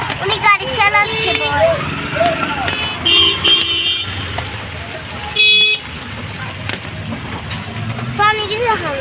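A car moves through a waterlogged, flooded street in the rain, engine and splashing under constant nearby chatter, with short horn toots and a longer honk midway.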